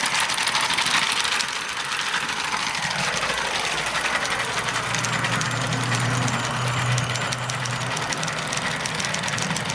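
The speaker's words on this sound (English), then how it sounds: "we'll just let the engine go around nicely by itself" Hornby G100 live steam model of Stephenson's Rocket running on its own outdoors, a continuous busy rattling chuff with hissing steam and a faint low rumble, steady and close throughout.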